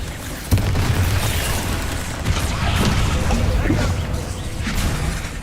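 A Confringo fire spell explodes in Hogwarts Legacy with a sudden booming burst, then a sustained rumbling roar of crackling blasts and game effects continues loudly for several seconds.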